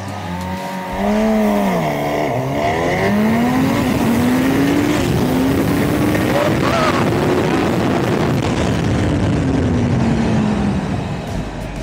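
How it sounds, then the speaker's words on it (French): Two Honda Hornet 1000 motorcycles, one standard and one SP, launching from a standing start over 200 m: loud engine roar climbing through the gears, then a long rising and falling drone. "parti pour le 200 mètres départ arrêté. Benoît sur la version normale, moi sur la SP."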